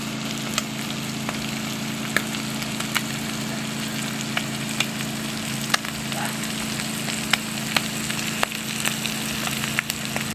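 Spicy adobo isaw with vinegar and pepper sizzles in a pan, a steady bubbling hiss dotted with crisp pops, over a low constant hum.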